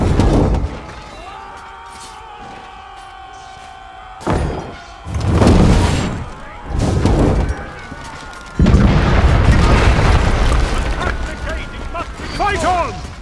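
A castle gate being battered and smashed in Chivalry 2, heavy thuds and booms crashing at intervals amid loud clamor, with a shouting voice over the battle.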